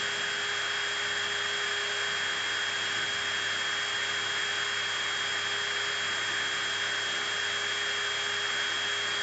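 A steady, high-pitched mechanical whir of a fully charged cordless drill spinning continuously at about 2,000 RPM, close and unchanging, with no voices.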